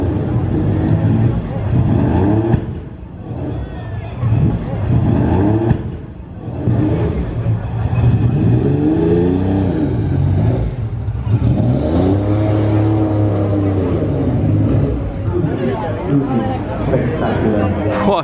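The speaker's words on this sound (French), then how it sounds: "je sais pas si vous avez entendu le backfire qu'elle a fait là-bas" A Ferrari race car at a Monaco concours d'élégance goes by with a steady engine roar that swells and fades. People talk loudly over it throughout.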